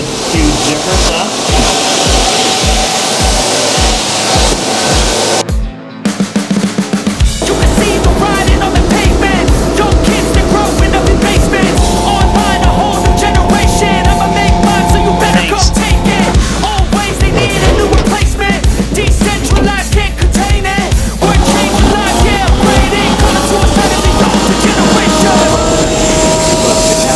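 A carpet cleaning machine roars loudly and steadily in a bathroom at a golf course, with a broad hissing, whooshing drone, a brief cutout near the start, then continuous running under occasional faint voices.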